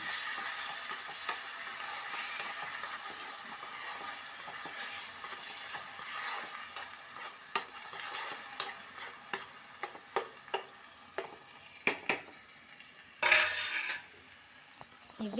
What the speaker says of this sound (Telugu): ఆయిల్లో వేసి బాగా ఎర్రగా అయ్యే వరకు వేయించుకోవాలి